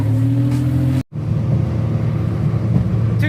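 A Suzuki Carry kei truck drives along the road, its engine a steady, loud droning rumble from inside the cab, broken by one brief dropout before the hum picks up again.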